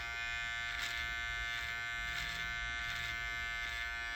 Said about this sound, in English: And then you just tilt the clipper in.